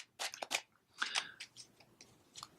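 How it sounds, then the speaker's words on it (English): Plastic-coated tarot cards are shuffled sideways by hand, giving quiet crisp riffling and snapping bursts in an irregular rhythm, close up with no talk. "sideways shuffle a little bit more difficult because of the plastic coating"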